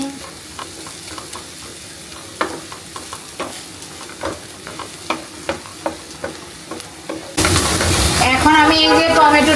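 Spice paste frying in a little oil for a Bengali mixed-vegetable dish, with spatula scrapes and clinks against the pan, then a sudden loud, hissing sizzle near the end.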